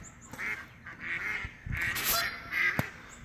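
A flock of geese honking just outside a bedroom window, several overlapping nasal honks in quick, irregular succession at moderate distance, with no talking.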